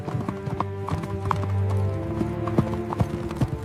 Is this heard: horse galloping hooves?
yes